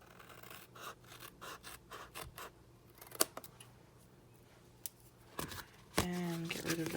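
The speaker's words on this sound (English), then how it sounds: "So I'll just trim these sections." Scissors snip through Stampin' Up! designer series paper for a fancy fold pop-up gift card holder, several close crisp cuts with rustling paper between and a louder handling sound at the end.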